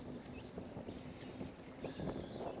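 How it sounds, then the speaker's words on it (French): Headwind rushing over the microphone while riding an e-bike on a Vosges tour after a mountain pass descent, a steady rough buffeting roar with no talking. "j'ai le vent de face."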